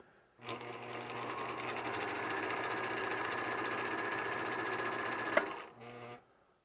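A Viking 190 computerized sewing machine runs steadily for about five seconds with an even, buzzing mechanical hum, then stops abruptly and gives a brief second whir.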